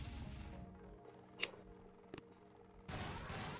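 A boom cannon fires in the Boom Beach Warships mobile game, giving a couple of short, punchy blasts in quiet game audio with a low background rumble and no talk over them.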